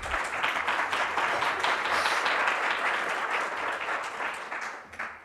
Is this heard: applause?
yes